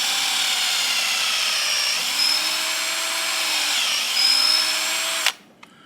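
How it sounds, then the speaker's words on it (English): A power drill boring an angled tap hole into a maple tree, whining steadily and close for about five seconds with slight changes in pitch as it cuts the wood, then stopping abruptly. "When I put the drill on, I want to make sure it's at an angle."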